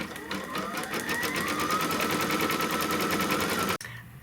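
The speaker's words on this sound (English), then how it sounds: "it's going to stitch the placement line for our piece of felt" An embroidery machine stitches a placement line for a felt piece in a jar topper project, giving a loud, close, fast rhythmic whir with a rising pitch that stops abruptly near the end.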